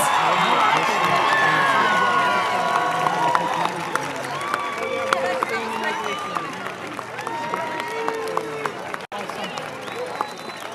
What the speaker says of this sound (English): Please join me in a final round of applause for these incredible valedictorians.